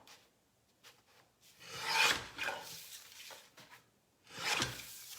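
Paper for an altered composition notebook cover being trimmed along a fold, giving a few dry rasping cuts that swell and fade, with two stronger strokes close to the mic and quiet pauses between.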